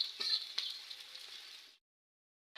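Potatoes for aloo bhaji frying in a pan, a soft close sizzle with small crackles that cuts to silence partway through.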